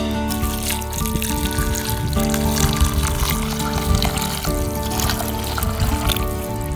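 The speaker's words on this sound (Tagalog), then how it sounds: "At talagyan natin ng tubig" Water poured steadily into a container while preparing drinking water for farm animals, a continuous trickling and splashing stream, close and fairly loud throughout, with no talking.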